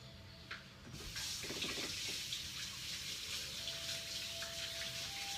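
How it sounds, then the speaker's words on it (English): Kitchen tap turns on and water pours steadily as hands coated in cactus goo are washed beneath it, a close continuous splashing rush with a few clunks at the start. "let me wash my hands real quick"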